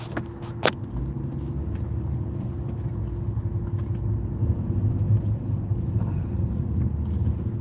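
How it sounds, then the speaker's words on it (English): Steady road traffic rumbles in a continuous low drone, as from inside or beside a car stuck in a jam, with a couple of brief sharp knocks near the start. "Check out this traffic, man."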